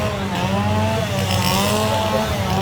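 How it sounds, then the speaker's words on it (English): Chainsaw engines roar continuously and loudly at Halloween Horror Nights, Universal Studios Orlando, their buzzing pitch wavering up and down as several seem to run at once. "Oh, we got a lot of chainsaws."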